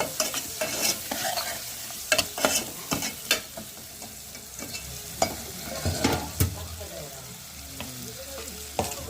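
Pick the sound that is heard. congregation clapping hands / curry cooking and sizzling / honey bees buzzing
curry cooking and sizzling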